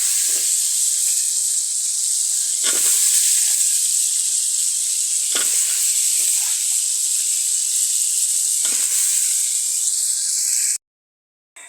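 Eggplant and potato sizzle loudly in hot spiced masala, a continuous bright frying hiss that lasts about eleven seconds. Periodic stirring scrapes break through it before it cuts off abruptly.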